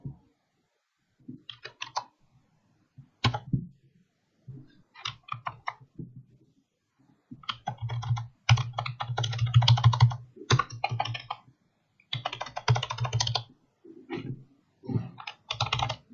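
Someone types on a computer keyboard in bursts of rapid clicking keystrokes separated by short pauses, close and clear with a quiet background.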